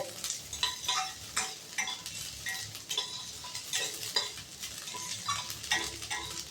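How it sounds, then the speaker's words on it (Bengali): Ginger frying in oil or ghee, a low sizzle broken by repeated spoon scrapes and stirring clacks against the pan in an irregular rhythm, close by and with no talking. "আদাটা একটু ভালো করে ভাজতে হবে"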